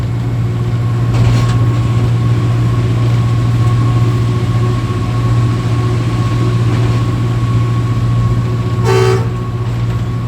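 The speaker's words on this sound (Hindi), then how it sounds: "कैटरपिलर का साउंड आपको सुनाई दे रहा होगा।" Caterpillar diesel locomotive hauling a Pakistan Railways Green Line train between Rawalpindi and Jhelum, a loud constant engine drone with a short horn toot near the end.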